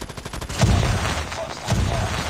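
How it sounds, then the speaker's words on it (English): Bursts of rapid gunfire from a PDW in a video game crackle loudly in two close volleys, with quicker faint shots before them. "Freak is shooting at me"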